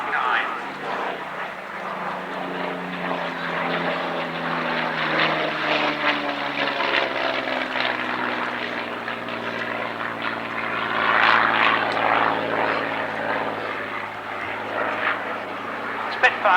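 A Supermarine Spitfire Mark 9 propeller fighter flies past at an airshow, its engine a steady, loud drone that swells slightly toward the end while a voice talks over it.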